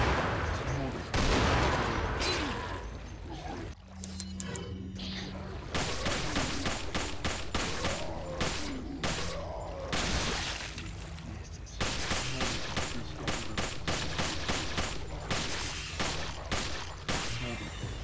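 Gunfire in a modded Resident Evil game crackles in dense, rapid volleys and scattered single shots over about eighteen seconds, with background game noise and someone speaking at times.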